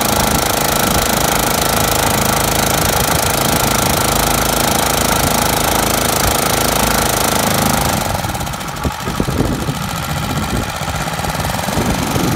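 A small lawnmower engine drives a homemade outboard motor and runs close and loud with a constant rattling, knocking drone. Its tone shifts and roughens slightly near the end.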